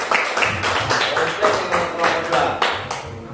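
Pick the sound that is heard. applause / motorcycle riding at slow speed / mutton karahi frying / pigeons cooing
applause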